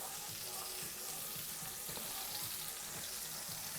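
Potatoes frying in a pan on a stove sizzle with a steady, dense crackle, close and continuous with no talking over it.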